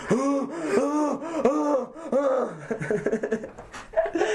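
A person imitates panting with a run of rhythmic, voiced breathy huffs, close and fairly loud, giving way to quicker choppy breaths and laughter-like gasps toward the end.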